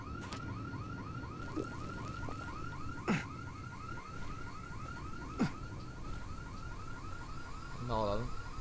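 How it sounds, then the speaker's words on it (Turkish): A car alarm in the Dead Island video game whoops in a fast repeating warble at moderate distance, with a few sharp thuds and a brief voice near the end. "Bak alarm çalıyor."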